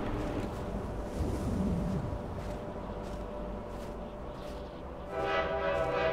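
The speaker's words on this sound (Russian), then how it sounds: "Похоже, это поезд. Нужно успеть." A train rumbles steadily through a snowy winter scene in a video game, and its horn sounds loud and sustained near the end.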